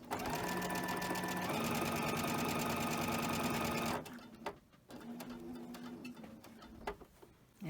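A sewing machine stitches fabric in a steady, loud mechanical whir for about four seconds, then stops; softer handling noises and brief clicks follow as the material is adjusted.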